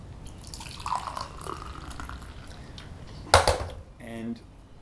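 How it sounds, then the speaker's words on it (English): Hot water from a tap runs and splashes into a sink during a hose reel fitting job, a brief loud gush followed by softer trickling and dripping, with faint background voices. "So now we need some hot water."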